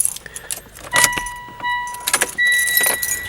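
Car keys jangle as they are pushed into the ignition of a 2014 Mitsubishi Ralliart, with a few bright metallic clinks and then sustained high electronic chimes from the car, close and fairly loud, no talk.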